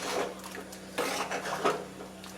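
A pan of moringa drumstick curry (theeyal) with ground coconut paste and added water is stirred with a utensil, giving soft scraping and clinking in a steady rhythm up close, with no voices.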